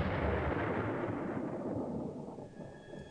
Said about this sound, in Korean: 천둥 번개까지 쳐가면서